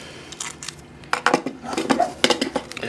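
Scraping and clinking as shards of broken camera-lens glass are pried off a Samsung Galaxy S8, with a scattered run of small, close, brittle taps and clicks in a quiet room.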